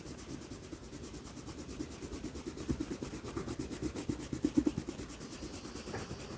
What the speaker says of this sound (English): I'm going to erase all of my pencil marks